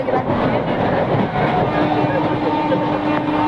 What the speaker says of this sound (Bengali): বাধ্য হয়ে ট্রেনটা তাড়াতাড়ি ঢুকে পড়লো